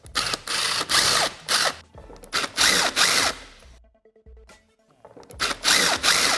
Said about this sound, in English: we're going to go ahead and remove all of the screws out of the clamps